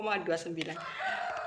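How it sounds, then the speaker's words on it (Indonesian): A rooster crows in the distance at night, a short drawn-out call with faint background noise. "kok ada ayam berkokok"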